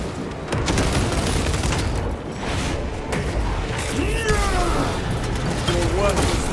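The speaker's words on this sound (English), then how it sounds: "Frag grenade deployed." A frag grenade explodes in the Space Marine 2 video game, with booms and crackling gunfire in a dense combat mix, while a voice talks over the noise.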